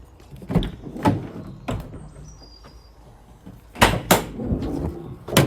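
A few sharp clunks and rattles as the back door of a 2016 Vauxhall Vivaro Bi Turbo Sportive crew van is unlatched and swung open nearby, with quiet pauses between, then a louder cluster of knocks.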